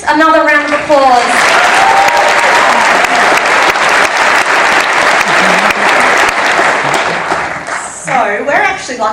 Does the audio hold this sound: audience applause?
yes